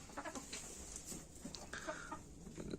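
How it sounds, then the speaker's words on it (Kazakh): Chickens in a poultry coop give soft, scattered clucks and short calls, faint and fairly close, over a low background hum. "Тауықтарымыз осы."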